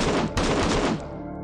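Turret gunfire in the Z Shelter zombie game, a loud rapid burst of shots at close range that cuts off abruptly after about a second.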